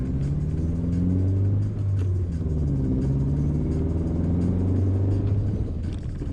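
A Subaru XV climbing an uphill dirt track off-road in Australia, its engine droning and rumbling steadily at low revs with rising and falling pitch, loud and close from start to finish.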